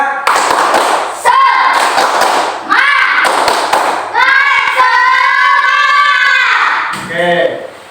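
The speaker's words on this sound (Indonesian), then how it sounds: "Tepuk semangat saya. Tepuk semangat." Classroom of students performing the rhythmic Indonesian "tepuk semangat" clap, sharp bursts of hand claps in patterned groups, interleaved with children's chanting voices and their teacher's voice, loud and close.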